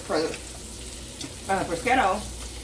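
Prosciutto frying in oil in a pan while beef short ribs are being browned, a soft crackling sizzle that swells in a few short bursts, with a voice talking between them.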